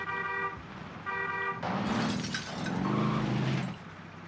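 A vehicle in Call of Duty Warzone gives two short horn toots, then its engine roars with tire skidding, loud and close, with no talk over it.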